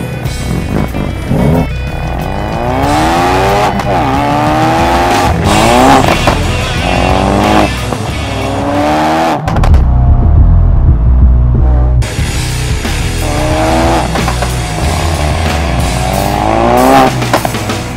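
Ford Focus RS on a test drive, its engine loud and close as it revs up and shifts through gears in repeated rising sweeps, with a brief lull midway before pulling hard again.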